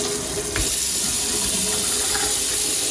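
A kitchen faucet sprayer runs water in a steady loud hiss that starts abruptly and continues evenly, close up with no talk.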